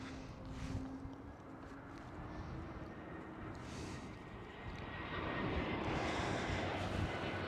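A heavy airliner passes at Amsterdam Schiphol airport, its engine roar a broad, steady rumble that swells toward the end with a faint whining tone, heard alone without talk.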